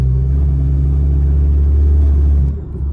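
Loud, deep exhaust of a BMW X3 M40i with a straight downpipe and side-skirt exit roaring steadily for a couple of seconds, then dropping off sharply as the throttle is released.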